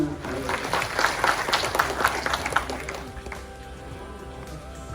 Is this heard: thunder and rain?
no